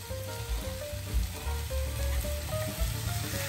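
Tomato tossed into a hot frying pan with vegetables and stirred gives a steady, close sizzle with crackling spatter, alone and unbroken throughout.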